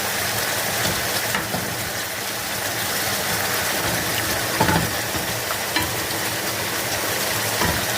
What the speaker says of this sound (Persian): خب پیاز داره سوخاری میشه